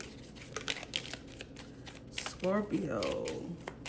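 Close, quiet shuffling of a tarot deck, a series of papery riffles and taps, with a person talking partway through over a faint steady hum.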